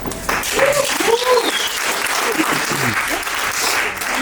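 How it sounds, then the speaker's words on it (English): An audience at a merchants' meetup breaks into strong, full applause that keeps up throughout, with some voices and cheers rising above the clapping. "Clap yourselves for the future of Africa"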